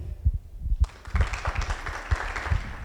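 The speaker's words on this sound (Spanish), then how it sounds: "Recibamos con un fuerte aplauso a la doctora Marisela Connelly" Applause rises to welcome a doctor taking the stage at a university conference, a burst of clapping with rhythmic low thumps that fills the hall and carries steadily to the end.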